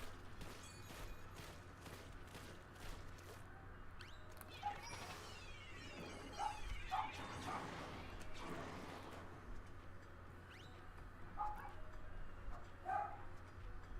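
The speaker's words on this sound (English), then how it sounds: "Doggos!" Dogs bark and yip in bursts during a Splatoon 3 Splatfest match. The barks are moderately close and sound over steady game noise, with a voice talking at times.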